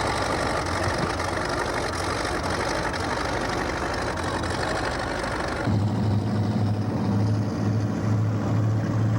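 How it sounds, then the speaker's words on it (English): The Harmsworth race boats Miss America 9 and Miss America 10 run at a 1984 Toronto boat show. Their engines give a loud, continuous rumbling drone that shifts to a deeper, throbbing tone partway through, with no voices. "Coming down the channel out of the pits is Miss America 9 and Miss America 10, Garwood's legendary Harmsworth champions."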